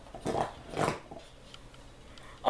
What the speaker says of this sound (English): She's just making that bone sound. It's getting annoying.